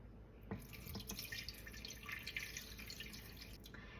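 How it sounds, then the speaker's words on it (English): Water running into a pot holding rendered beef tallow in a home kitchen, a continuous splashing, trickling pour heard close and fairly steady throughout, with a few louder drips and spatters. "we're just going to cover it with some water."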